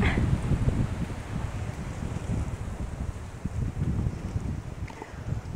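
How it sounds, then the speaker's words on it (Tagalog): Strong wind buffeting a hillside staircase at Tayak Hills, a loud low rumble with gusty microphone noise that swells and eases continuously for several seconds. "Para naman akong tinutulak ng hangin pababa."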